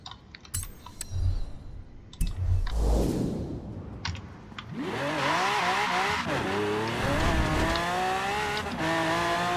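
A 1969 Pontiac GTO Judge in the Forza Horizon 4 racing game brakes hard with the tires locking, with loud, sustained tire squeal and skidding over engine noise after a few earlier clicks and thumps.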